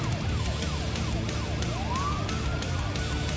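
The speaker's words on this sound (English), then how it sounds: "So I'm hearing the sort of police sirens" Police sirens wail in a motorbike video game, their rising and falling tones repeating steadily over a constant engine-and-road drone, with no talking.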